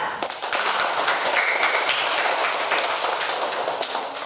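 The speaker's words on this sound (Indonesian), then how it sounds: "Mari kita tepuk tangan untuk kelompok 3." Classroom applause for the third student group: dense, steady clapping from many hands fills the whole stretch at fairly close range, with no voices breaking through.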